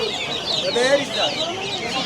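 Chickens cluck in a busy outdoor poultry market in Sabunçu, a steady mix of overlapping hen calls close by over crowd murmur and faint voices, with no clear crowing.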